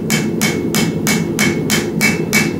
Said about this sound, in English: And I'm looking for that metal on metal sound.